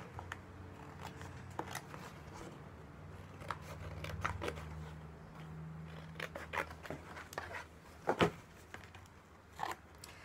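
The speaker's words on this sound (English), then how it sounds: "Then I quickly have to cut those out." Scissors snip through cardboard while cutting out hand-drawn clock hands for a homemade cardboard clock, giving a string of short crisp cuts and crunches with paper rustling, a louder snap near the end, and no talking.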